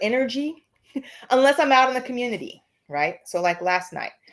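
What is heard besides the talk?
No everyday noise stands out behind the speech.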